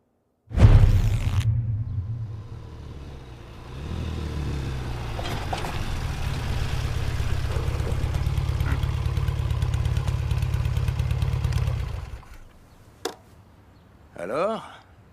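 Motorcycle engine starting with a loud burst, then settling into a deep steady idling rumble that swells briefly and holds for several seconds before cutting off, followed by a short voice and a faint sharp sound.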